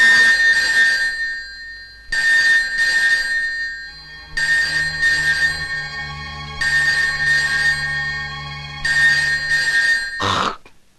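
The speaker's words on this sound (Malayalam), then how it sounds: "ഈ ഫോൺ നിങ്ങൾക്കാവും." A telephone bell rings loud and close in repeated long bursts with short pauses between them, then cuts off abruptly near the end.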